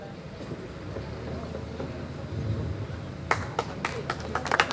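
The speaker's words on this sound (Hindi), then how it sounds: "भाई जोरदार तालियां हो जाएं।" Clapping breaks out at a journalists' association ceremony welcoming a district collector, starting as scattered sharp claps after a stretch of murmuring crowd noise, fairly close and moderate in loudness.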